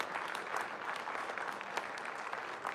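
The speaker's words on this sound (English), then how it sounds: "let's give a big round of applause to the panelists here" Audience at a corporate summit applauds the panelists and faculty members, a dense, steady wash of many hands clapping at even loudness throughout, with no voices over it.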